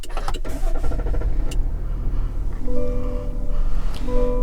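A 2024 GMC Sierra with a 3.0L Duramax diesel started by push button, the engine cranking and catching into a steady idle hum, close and clear, preceded by cabin clicks and chimes.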